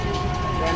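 Passenger train running on rails in India, a steady loud rumble filling the whole moment with no clear clicks, heard from inside the carriage.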